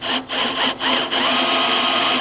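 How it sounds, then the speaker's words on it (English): Drill bit grinding into the metal stack of a Pit Boss 1100 Pro pellet grill, a loud harsh continuous whine that stutters briefly a few times before running steadily. "just that tip is kind of trying to drill in"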